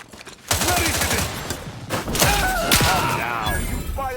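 Gunfire in the sci-fi video game The Outer Worlds, a loud, dense fusillade of rapid shots with thuds and shattering impacts, running almost continuously after a brief quiet start.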